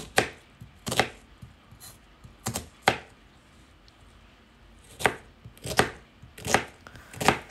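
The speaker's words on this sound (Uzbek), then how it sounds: "bitta piyozni ham to'rab olamiz" An onion is chopped on a cutting board for goulash, with sharp knife strikes that come in quick pairs and small groups separated by short pauses, close and crisp.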